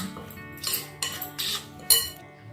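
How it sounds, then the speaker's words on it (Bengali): A spoon mixing semolina into homemade sour yogurt in a bowl for idli batter, giving a few soft scrapes and sharp metallic clinks against the bowl at irregular intervals, close and fairly quiet. "এবার এটাকে দইয়ের সাথে ভালো করে সুজিটাকে মিশিয়ে দেব।"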